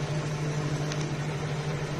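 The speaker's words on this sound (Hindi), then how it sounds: "और अभी माइक्रोवेव बंद हो गया।" A microwave oven with a faulty touch pad hums steadily with a low electrical drone, a couple of faint clicks near the middle and no clear stop.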